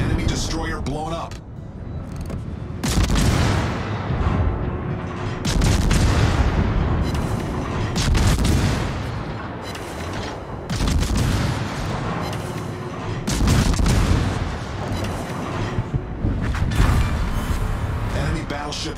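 An enemy battleship blows up in World of Warships amid repeated heavy booms and rolling blasts, loud bursts every few seconds, while a person talks over much of the action.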